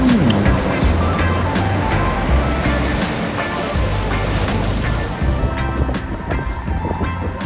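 Surf rolls and breaks steadily on a beach in Turkey, a loud, continuous wash of ocean waves with a low rumble throughout and no voices.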